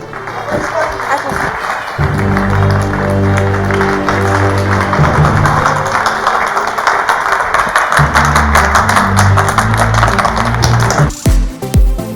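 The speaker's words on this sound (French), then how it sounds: "Applaudissements." An audience applauds to welcome a performer onto a Grand Café stage show, loud sustained clapping mixed with a rhythmic musical backing that runs for about nine seconds before cutting off abruptly.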